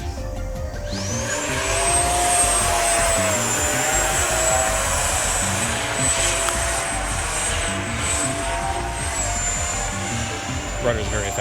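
An FMS Rafale 80mm electric ducted-fan RC jet flies aerobatics with a loud, steady high-pitched whine that rises and shifts in pitch as it passes, over outdoor wind noise.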